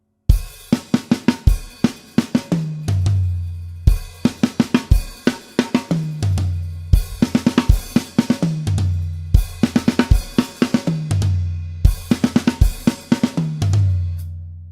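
Full drum kit grooving in the outro chorus feel of a song, with dense hi-hat or cymbal hits, driving kick and snare in repeating bar-long phrases, played loud and close with no talk.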